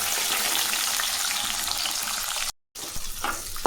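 Small onions and urad dal sizzling in hot oil for onion chutney, a loud steady crackling fry that cuts out briefly, then resumes with scattered pops.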